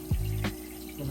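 Tap water runs into a small mini aquarium tank, a short burst of splashing and gurgling lasting about a second against a faint background hum.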